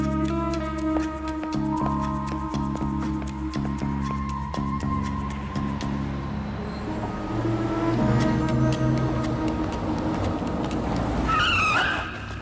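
A car engine revs and tyres skid with a sustained squeal, then the car drives off in a loud, tonal, accelerating roar that ends in a final sharp screech.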